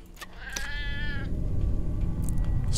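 A hungry cat meows in the survival game Sheltered, one clear drawn-out meow near the start over a steady low game ambience, with no talking.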